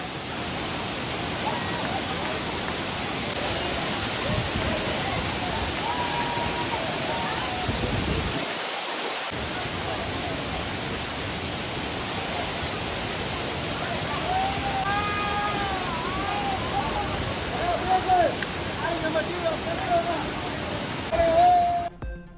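Thirparappu waterfall in Kanyakumari district, crowded with tourists bathing on a Sunday holiday, pours in a dense, constant roar of rushing water for over twenty seconds, with a voice speaking over it.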